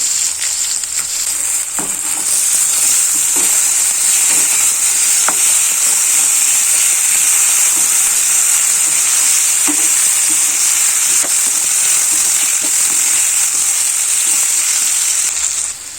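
Thinly sliced potatoes for a simple aloo fry sizzle loudly and steadily in a hot pan for the whole stretch, with occasional soft scrapes and clicks of stirring near at hand and no voices.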